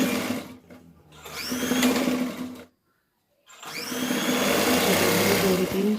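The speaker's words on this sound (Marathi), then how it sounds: "आपण जे मार्किंग केलेलं आहे त्यावरून शिलाई मारून घ्यायची." Sewing machine stitching a tux blouse along marked lines: a steady mechanical whirring hum that runs, drops out completely for under a second, then resumes at the same close, fairly loud level.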